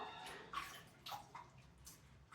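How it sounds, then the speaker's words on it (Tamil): Soaked potatoes are washed by hand in a bowl of water, quiet splashes and sloshing strokes at an even pace, close and faint. "எல்லாத்தையும் நல்லா கழுவி எடுத்துக்கலாம்"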